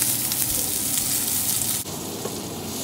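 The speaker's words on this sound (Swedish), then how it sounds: "Så nu ska jag steka min fisk." Fish sizzles in a frying pan with a loud, continuous crackling hiss that dips slightly partway through, with no talking over it.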